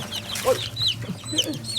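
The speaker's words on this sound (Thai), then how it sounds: "นี่ครับนี่ก็เป็นลูกไก่นะเพิ่งออกมานะครับ" A newly hatched peafowl chick gives several high, thin peeps close by, with faint clucking-like chatter underneath.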